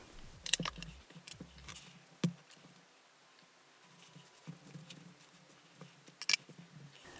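Scissors snipping yarn while finishing a crocheted sweater, a few sharp quiet clicks of the blades spread over several seconds, close up with faint handling noise and no talk.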